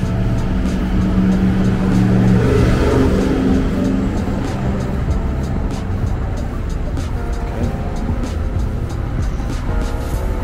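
Cement trucks and traffic pass over a bridge in the Bronx, a loud, continuous roar of heavy engines and tires with a deep, droning rumble.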